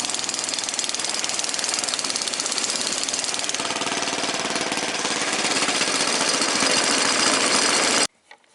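A pulling tractor's loud engine roars steadily at high revs with a harsh, rattling knock, building slightly before cutting off abruptly near the end.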